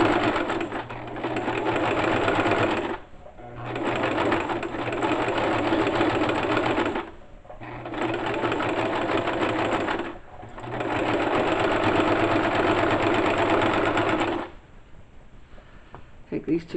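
A sewing machine stitches the center back of ladies' panties in long, steady whirring runs, stopping briefly three times before a final pause, with faint handling noise in the gaps.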